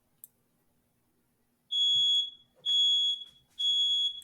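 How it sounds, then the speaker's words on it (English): Fire alarm sounding three loud, shrill, steady electronic beeps, each about a second long with short gaps, after a near-silent lead-in with a faint tap. "Yeah, that's a fire alarm."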